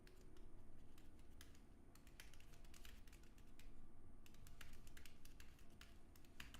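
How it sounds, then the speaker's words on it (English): Steady keyboard typing with clustered, uneven keystroke clicks throughout, fairly close and moderate over a low background hum, with no speech. "I realize you can't see it all when I'm typing."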